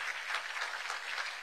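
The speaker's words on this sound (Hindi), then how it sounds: "मैं चाहूंगा जरा इस पर एक बार जोरदार तालियां हो" A crowd claps steadily, a dense burst of applause from a conference audience with no voices standing out.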